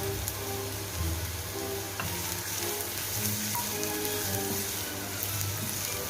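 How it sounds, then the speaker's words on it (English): Chopped onion frying in olive oil in a pan gives a continuous, even sizzle and crackle at moderate volume throughout, with no voices. "First, I'm going to add some olive oil and chopped onion,"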